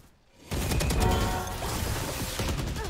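Gunfire in the Valorant shooter game bursts in suddenly after a brief quiet moment, with rapid cracking shots and clattering impacts continuing loudly to the end.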